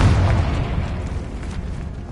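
A Confringo spell explosion in the video game Hogwarts Legacy: a loud, deep booming blast with rumbling low end that decays steadily over about two seconds, heard alone.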